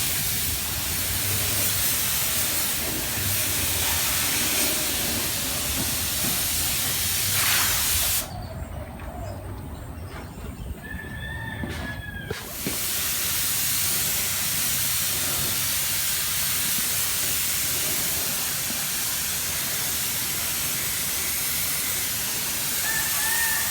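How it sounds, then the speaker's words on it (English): Steady spray hiss of adhesive promoter being applied to truck running boards, continuous and close, with a brief pause partway through before the spraying resumes. "it's time to spray on the adhesive promoter"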